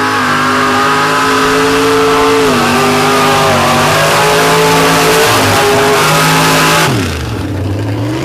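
A 1984 Chevy short-bed truck with a 512 cubic inch Rodak engine roars at full throttle in a loud, steady drone at a racing event, its pitch wavering and dipping once near the end as the run comes off.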